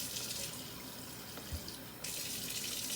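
Tap water runs steadily into a container being filled for tea, a continuous close hiss that brightens and grows slightly louder partway through.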